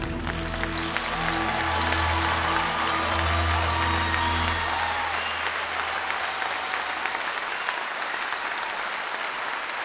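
Audience applause for a dance group at a live Armenian concert, loud sustained clapping from a large crowd that begins over fading music and continues alone to the end.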